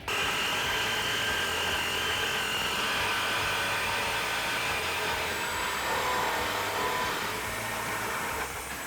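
A power tool cuts through a stock exhaust pipe to fit a Roush axle-back exhaust, giving a continuous high, harsh whine at moderate level that runs for about nine seconds before easing off.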